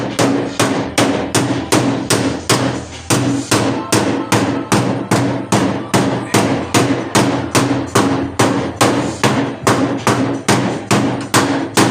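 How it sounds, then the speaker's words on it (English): Hammering on the sheet metal of a 1977 Datsun B210 body from the inside, a loud, close series of sharp, evenly spaced metallic blows, about two per second, continuing steadily with no talk. "try to hammer it down a little bit from the inside."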